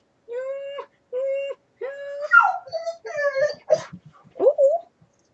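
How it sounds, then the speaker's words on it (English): A dog whines and yelps in high, drawn-out cries, rising into howl-like wails, close by, with a few soft background noises between the calls. "the dog's freaking out"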